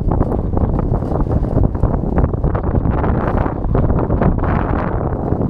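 Strong wind blasts steadily across the microphone while cycling, a loud, continuous low roar that fills the whole stretch without letup.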